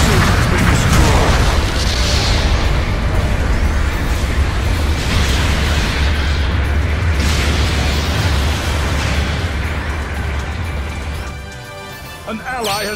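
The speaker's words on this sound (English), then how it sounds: "Enemy mobile suit destroyed. The mobile suit has been destroyed." A mobile suit blows up during battle in a Gundam video game, a sustained loud booming explosion with deep rumble that rolls on for several seconds before tapering off near the end.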